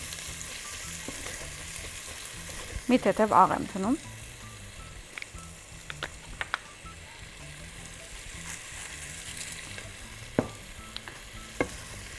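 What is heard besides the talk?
onion frying in a pan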